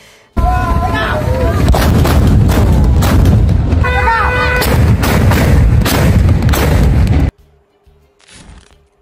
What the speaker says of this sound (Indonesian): Meriam ini menghasilkan suara dentuman keras yang menggema